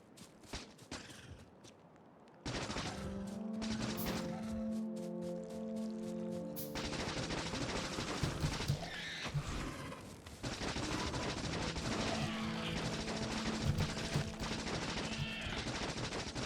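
Automatic gunfire in Factorio aimed at an alien nest, a steady rattling stream of shots over a humming, tonal game backdrop, starting after a quieter opening and running nearly continuously.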